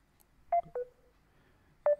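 Three short electronic telephone line connecting tones, two in quick succession and a third after a pause, clear and fairly loud against near silence.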